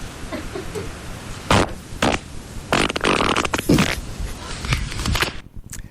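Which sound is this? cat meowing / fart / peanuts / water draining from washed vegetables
fart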